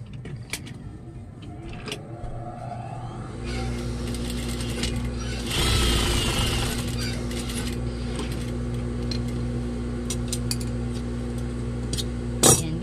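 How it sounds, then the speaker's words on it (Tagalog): An electric sewing machine runs a straight stitch along a lab coat seam, a steady close mechanical whir with a rhythmic hum lasting most of the time, preceded by small handling clicks and taps. "dyan tayo magpapasada ng tahi ng diretso"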